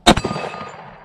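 A 10mm Smith & Wesson M&P pistol shot strikes a small steel plate: one sharp, loud bang and clang that rings out and fades over about a second.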